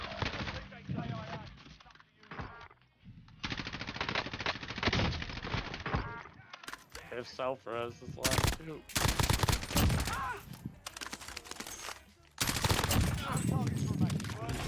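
Sniper rifle shots and suppressing gunfire in the Warzone video game crack in sharp, scattered bursts at close range, mixed with rapid clusters of shots while players talk quickly over the shooting.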